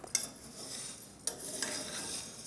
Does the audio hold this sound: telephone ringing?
no